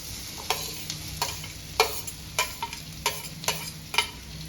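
Cubed onion and potato fry in a pan, with a steady sizzle punctuated by sharp scraping and clattering stirs at irregular intervals, fairly close and loud.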